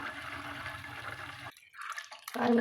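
Butter melting into ghee on low heat, simmering and foaming in the pan with a steady, close bubbling sizzle that suddenly drops away partway through, then returns.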